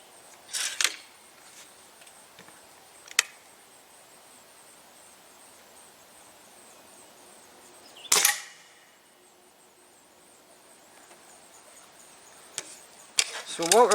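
Four sharp, isolated shots from a Stoeger A30 air rifle fire at a target with JSB Hades, Ultra Shock or RWS Hobby pellets. Each crack is brief and well spaced, with near-silence between.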